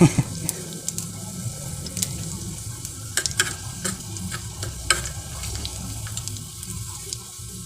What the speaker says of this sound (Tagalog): nagsisiningag ako ng kanin